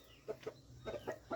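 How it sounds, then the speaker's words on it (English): Chickens clucking in short, quiet bursts, five or so brief calls spaced irregularly over a faint steady background hum. "sometimes the chicken, they are very noisy, especially in afternoon or in the morning"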